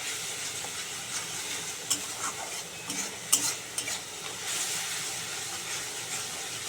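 A masala of onion, garlic, green chilli, ginger, salt, turmeric and Kashmiri chilli powder is stir-fried in a pan, a close steady sizzle broken by scraping and stirring clacks.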